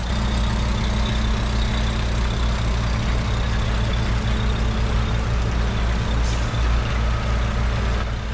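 A heavy truck hauling an 85 m wind turbine blade idles and rolls along with a steady, loud low engine drone, a faint hiss rising briefly near the end.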